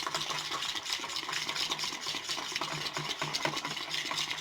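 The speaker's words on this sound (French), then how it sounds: "Vous tournez jusqu'à ce que vous voyez les deux ingrédients se mélanger." Two ingredients being stirred together in a bowl until smooth, a soft continuous scraping and swishing with steady rhythm, close but faint, no talk.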